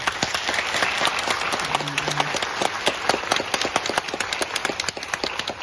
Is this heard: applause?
yes